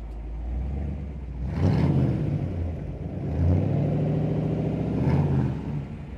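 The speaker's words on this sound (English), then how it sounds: "Rev the engine for me." A 1956 Ford Fairlane Victoria engine revving up close, two rising surges of rumbling exhaust between a steady idle, loud and alone without voices.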